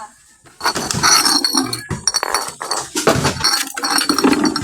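Glass bottles gathered on a junk-collecting round clink and clatter repeatedly as they are handled and counted, in bright, close knocks and rattles that come in uneven bursts.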